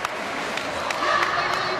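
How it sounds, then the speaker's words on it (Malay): Badminton fans cheer at a youth Asian championship men's singles match in the indoor Likas stadium in Kota Kinabalu, a broad, steady roar of crowd noise running beneath a commentator's voice. "boleh mendengar sorakan yang cukup gemuruh"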